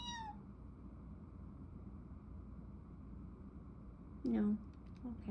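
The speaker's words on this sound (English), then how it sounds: "Meow, meowing." Pet cat meowing: a short falling meow at the start, then a louder, rising and falling meow near the end over steady low room rumble.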